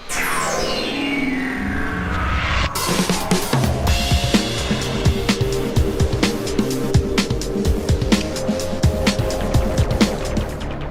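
Electric Formula E race cars on the Beijing circuit whine past, one pitch sweeping down as a car passes close, then a dense, loud stream of cars with rapid clattering transients.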